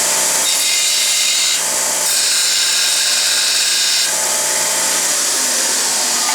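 A Kalamazoo belt sander grinding steel gives a loud, continuous high-pitched abrasive roar up close, with the pitch and intensity shifting as pressure on the workpiece changes.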